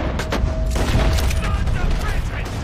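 Rapid gunfire rings out in a Red Dead Redemption 2 shootout on Guarma island, with loud, dense, overlapping shots and booms forming a continuous volley over a low rumble.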